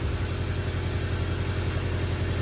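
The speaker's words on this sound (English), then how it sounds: "I'm gonna give it a couple revs." A 1995 Honda car engine idles steadily up close with a constant low rumble, with no clear rev rising above the idle.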